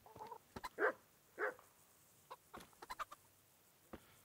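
A dog barks in the video game Kingdom Come: Deliverance, set in the village of Rataje, giving a few loud barks and then scattered quieter yips, with rooster-like calls nearby and no talk.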